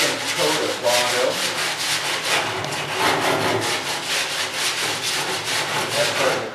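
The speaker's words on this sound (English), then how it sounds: "Switch over to the sanding block here. Get a nice anchor pattern for our second coat of Bondo." A sanding block works Bondo body filler on a classic car, producing loud, close, continuous rubbing and scratching in quick back-and-forth strokes with no break.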